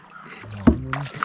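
A kayak paddled through water into a forest on a first-time outing, with a single soft splash of the paddle stroke followed by light dripping and faint water movement, close by.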